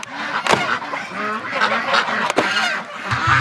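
Muscovy ducks calling loudly and close in a cold, frozen yard, repeated raspy honks and hisses in quick bursts with a few sharp knocks between.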